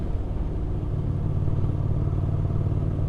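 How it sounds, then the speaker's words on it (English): Ducati Scrambler motorcycle on a test ride, its engine giving a steady, loud, close rumbling drone with a slight rough clatter throughout. "I'm having a quick test ride on a Ducati Scrambler"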